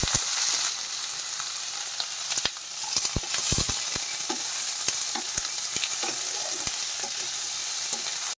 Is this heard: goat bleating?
no